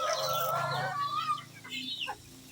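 Chickens cluck and call close by in a yard, a short run of overlapping squawky notes with a few rising cries toward the end.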